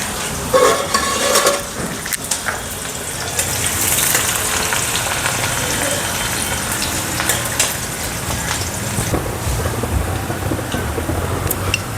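Sliced onion hitting hot oil already crackling with cumin and mustard seeds, a steady loud sizzle with a few clinks of utensil against the pan, no talking.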